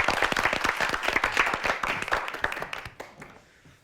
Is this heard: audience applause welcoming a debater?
yes